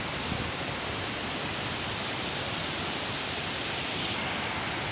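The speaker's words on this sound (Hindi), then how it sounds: "शोर इतना ज़्यादा है पानी का, बिकॉज़ यहाँ पे दरिया बह रहा है" A river rushes loudly through Neelum Valley in Kashmir, a dense, unbroken roar of churning water that fills the whole clip without any voices.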